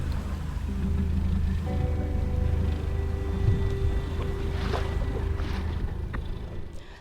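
A small dinghy motors toward a dinghy dock, its outboard engine droning steadily and fairly close for the whole stretch, with wind and water noise mixed in and no talk.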